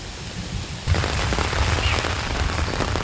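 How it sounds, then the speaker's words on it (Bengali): Monsoon rain pours onto a village chicken coop, a dense, loud hiss of drops drumming on the surface that swells suddenly after a quieter start and then holds steady, with no voices. "দেখুন কিভাবে বৃষ্টিতে ভিজছে, তবুও মুরগি ভিতরে রয়েছে"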